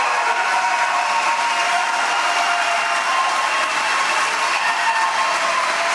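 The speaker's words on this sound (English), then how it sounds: "if the audience can hold their applause. That didn't work out." A large audience applauds steadily at the close of the third Republican presidential primary debate, a continuous wash of clapping that holds at a constant level, with no talking.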